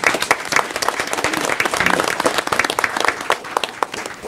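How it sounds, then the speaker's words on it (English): Steady audience applause fills a county commissioners meeting during an employee service-award recognition, many hands clapping densely and evenly at moderate distance for several seconds without a break. "a round of applause again"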